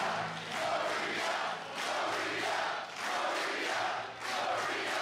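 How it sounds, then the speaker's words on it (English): A wrestling event crowd cheers loudly and continuously, with the roar swelling and dipping in waves, close and dense, no clear commentary over it. "Listen to this crowd get behind her."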